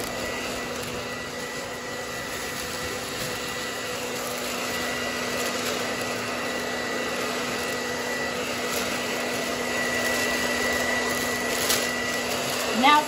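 Constant whooshing drone of a hair dryer blowing steadily nearby, with a faint steady hum underneath and no pauses.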